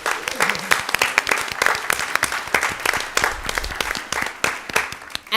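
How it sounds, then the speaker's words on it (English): Applause from the audience at a school board meeting, a burst of sharp, closely spaced claps that stays busy for several seconds before thinning slightly, with some voices mixed in. "Let's give them a big round of applause."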